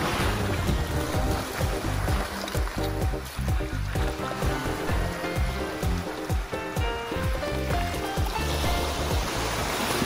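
Sea waves meet and churn off a sandbar at Great Santa Cruz Island in Zamboanga, heard as a loud continuous rush of surf and splashing water, with a boat's low engine rumble running steadily underneath.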